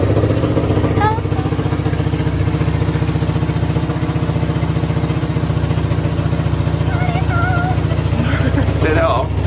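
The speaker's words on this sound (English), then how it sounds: "So you're going to ride a motorbike?" A motorbike engine runs steadily at idle throughout, a constant low throb close by, with voices talking over it.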